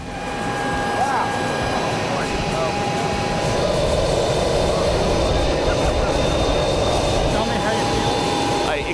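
A loud, steady jet engine roar rolls on without a break, with a continuous whine and rumble from a Dassault Falcon 8X business jet on the ground after touchdown.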